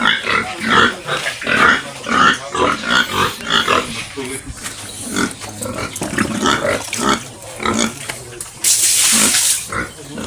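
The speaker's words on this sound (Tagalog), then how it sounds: "Ito yung baboy ko" A pig kept at a home grunts and oinks repeatedly and loudly up close, in choppy bursts, while people talk nearby and a brief hiss rises near the end.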